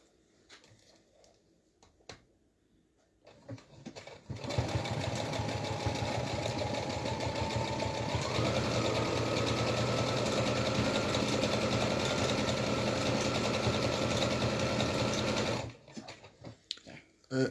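A loud Brother sewing machine runs a long straight seam on a pillowcase, starting after a few quiet seconds with a steady motor hum and rapid needle clatter, its pitch rising briefly midway before stopping abruptly.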